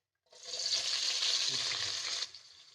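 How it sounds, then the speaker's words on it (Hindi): Two medium sliced onions drop into hot cooking oil and sizzle loudly and evenly at close range for about two seconds before the hiss cuts off abruptly. "ऑयल हमारा गर्म हो चुका है। अब इसके अंदर हम प्याज शामिल करेंगे।"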